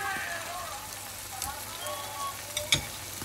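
Restaurant-style mutton karahi with yogurt, cream and spices cooks in a pan with a steady, crackling sizzle and a couple of soft stirring knocks near the end, while a person talks.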